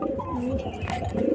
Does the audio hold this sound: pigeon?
yes